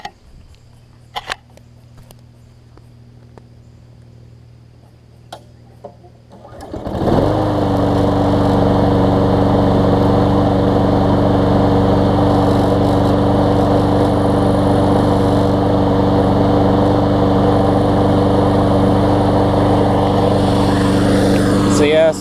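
A newer Lawn Boy walk-behind mower after a carburetor cleaning is started after a few faint clicks and quiet handling, then runs loud and steady at a constant high idle close by until the end.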